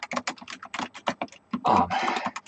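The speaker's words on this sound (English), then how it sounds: "Wasting my time typing this out." Quick typing on a computer keyboard, close and crisp, runs in irregular clusters of keystrokes and ends in a denser, louder flurry of clicks.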